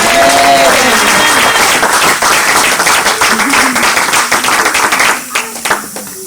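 A church congregation claps and cheers in loud, sustained applause with voices calling out through it, tapering off at the end.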